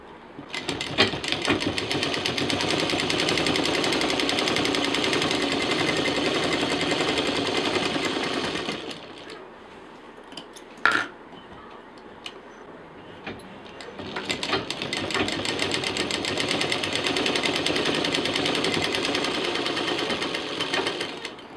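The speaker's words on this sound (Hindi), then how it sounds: "इसको इसका जो इसके साथ जो पीस लगाया था, इसको इसके साथ मिला के तीन तरफ से सिल देंगे।" A sewing machine stitches fabric pieces of a festive sling bag in two long runs of rapid, even mechanical chatter. A pause in the middle holds a single sharp clack and a few faint handling noises.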